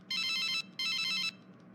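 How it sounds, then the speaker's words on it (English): A telephone ringtone sounds in two loud, steady bursts separated by a short pause, then stops. A quiet room tone follows. "Where is that phone ringing at?"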